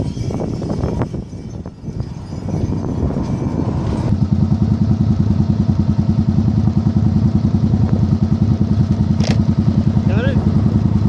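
A Yamaha Virago 1100 motorcycle engine starts up and settles into a steady, loud, rhythmic thumping idle close by, with wind noise on a blustery day and brief talk at the start.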